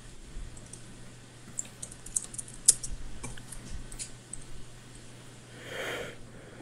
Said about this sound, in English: Sounds like you're typing up storm there.